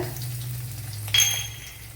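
Five or six garlic cloves and a little ginger sizzle in hot oil for a Kerala chickpea curry, a steady close frying hiss with a brief sharper crackle and clink partway through.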